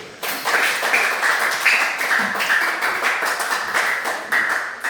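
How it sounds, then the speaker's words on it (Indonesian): Classroom audience applauding for a student group, steady dense clapping from many hands sustained throughout, fairly close and loud with no talk over it. "Oke, kita beri aplaus dulu."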